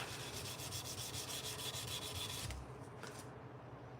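A knife blade being hand-sanded with 400 and then 600 grit sandpaper, close and quiet, made of rapid back-and-forth rasping strokes that stop abruptly partway through and leave a few softer rubs after.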